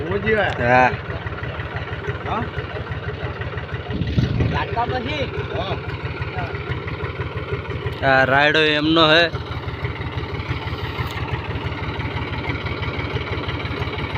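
An old New Holland tractor engine runs at a steady idle throughout, a continuous low rumble with people talking over it.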